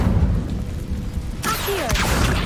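A burst of whooshing magical energy with a swirling, rising tone erupts halfway through the Incendio fire spell in Hogwarts Legacy, following a rumbling game backdrop.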